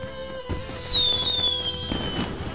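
Fireworks from The Secret of Monkey Island video game burst against a night sky: a loud descending whistle sweeps down, followed by crackling booms, with no voices.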